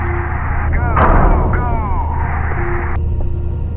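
Heavy staged gunfire from an ambush in the Iraqi desert booms through a dramatized war scene as loud, rolling shots over a low rumble, with voices calling out amid the firing.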